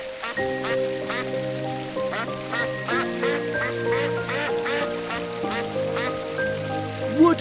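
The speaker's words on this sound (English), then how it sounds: "It's a duck." A duck quacking repeatedly in a steady series of calls over a pattering, rain-like background, close and fairly loud throughout.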